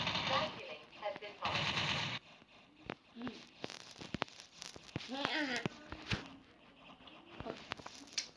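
Video game gunfire gives sharp bursts and single shots, moderately loud, scattered through the clip, mixed with game sound effects while young people talk over it in Turkish.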